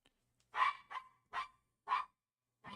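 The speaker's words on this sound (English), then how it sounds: "My dog is going buck wild right now." A dog barks five times in sharp, evenly spaced bursts, moderately close and on its own against silence, with no voices in between.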